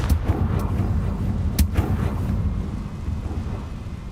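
Confringo blasting spell from Hogwarts Legacy going off as a sequence of booming explosive bursts, a couple of sharp cracks in the first two seconds, then a rumbling tail that fades.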